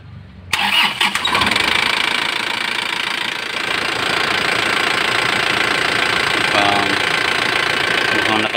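An Isuzu 4JB1TC diesel engine that is hard to start and keeps stalling cranks briefly, catches and settles into a loud, steady, knocking idle close by, with a voice under the engine noise.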